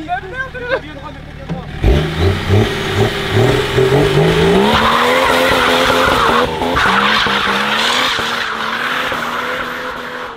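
A BMW 330d skids after the handbrake is pulled, its tires squealing loudly as the engine note climbs and wavers, with voices in the car over the noise.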